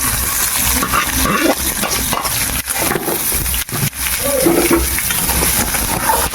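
Steady sizzling of ginger frying in a hot pan with scraping and stirring sounds, occasional clinks of a utensil against the pan.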